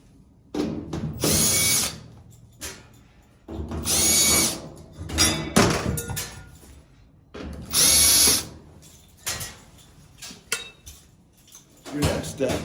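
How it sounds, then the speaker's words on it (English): A power drill works on screws of an Amana washing machine in short, loud repeated bursts with pauses between, along with some metallic clatter. "Next step is to remove these 3 screws."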